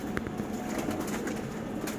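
Domestic pigeons coo softly in a loft, low throaty murmurs over faint background hiss, with a few brief soft rustles, heard at moderate distance and fairly quiet.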